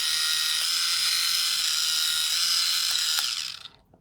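A small electric rotating brush head spins on its lower speed setting, a close, steady high buzzing whir with faint ticking that cuts off after a few seconds.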